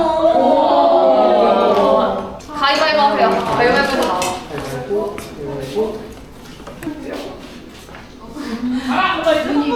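Ceramic plates clink and knock as they are handled, close by, while people talk over them throughout.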